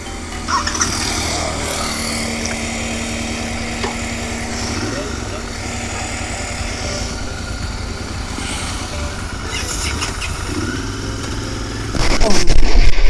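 A Royal Enfield Interceptor 650 motorcycle hums steadily on a road, its engine drone fairly loud and constant with faint shifts in pitch, before a louder burst of engine noise near the end.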